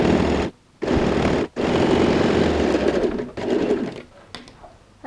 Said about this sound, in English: You just turn the fabric and then start sewing.